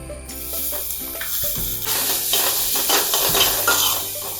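Prepared masala hits hot oil after mustard seeds for a pickled jackfruit stir-fry, setting off a loud rising sizzle that settles into steady frying hiss, with background music underneath.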